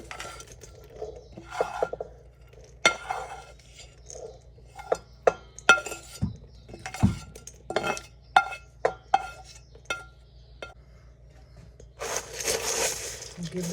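Bacon and sausage tumble into a pan where vegetables are cooking and get stirred, giving scattered clinks and scrapes of utensil on cookware, with a person talking at times and a brief hiss near the end.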